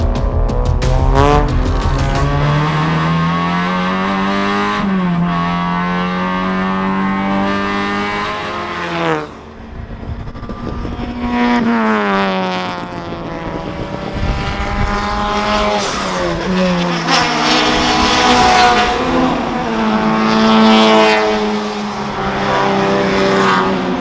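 A race car laps a circuit at a weekend racing meet, heard from inside the car, with the engine loud and continuous as it revs up through the gears and drops back on lifts and braking, then climbs again.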